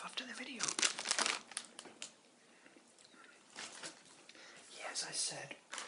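A UK crisp packet crinkling and rustling up close, with brief crunchy bites of the crisps, in quiet intermittent bursts alongside soft whispering.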